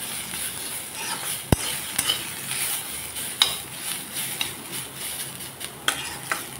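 Vegetables, bottle gourd peel and cucumber, stirred in a hot pan with soft sizzling and scattered sharp clicks of a utensil scraping the metal, a quiet steady cooking bed with no talk.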